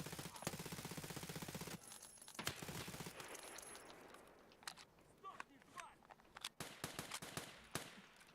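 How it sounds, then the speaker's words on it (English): Video game gunfire: a long steady burst of automatic fire as a whole magazine is dumped into an enemy, then scattered sharp single shots and clinks, with voices talking over it. "That you shooting at him? Yeah. I just mag dumped him."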